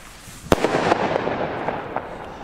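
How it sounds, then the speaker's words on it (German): A Lesli Thunder Kong salute firework rocket bursts outdoors with one sharp loud crack, followed by a scattered crackle of smaller pops and a fading rumble. "Die Rakete geht auf Lennart seinen Nacken"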